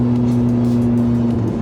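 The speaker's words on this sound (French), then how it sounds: "En passant les rapports à 5000. Et dites-vous bien qu'on peut aller jusqu'à 9000 tours minute sur cette 458." Ferrari 458 Italia V8 engine revving, a loud sustained tonal drone holding steady then shifting pitch near the end as it moves through a gear change, no voices.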